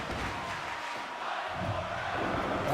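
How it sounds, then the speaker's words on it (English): A wrestling crowd roars in a continuous, full-bodied wave, with a swell toward the end that sounds distant and reverberant. "the crowd is feeling it. You can hear their roars"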